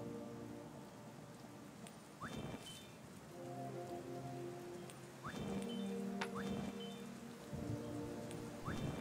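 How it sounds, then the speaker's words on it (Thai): Steady rain pattering down in the video game Kingdom, a continuous hiss with a few brief tonal game sounds and soft thumps over it, moderately loud throughout. "ฝนตกแล้ว"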